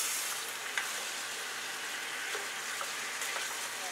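Ingredients for tinola sauté in a hot pan, giving a steady close sizzle with faint crackles and occasional stirring clicks, no voices over it.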